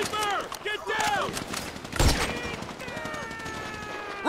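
Bursts of automatic gunfire crackle through a shootout in Grand Theft Auto V, steady and close, under loud shouted dialogue from several characters, with one heavier blast in the middle.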